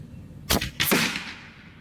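Two sharp, close reports ring out from a power-tuned Avenge-XL .30 air rifle firing FX slugs at a target about 100 yards off, each crack followed by a short fading tail, with no speech.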